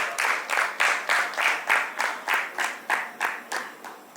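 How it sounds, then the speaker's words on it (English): An audience at a sustainability panel discussion in Ahmedabad claps in unison, with loud, evenly spaced beats of about two or three per second that carry on throughout without speech. "So this needs a very big round of applause."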